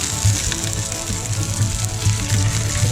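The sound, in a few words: venison sausages frying in a pan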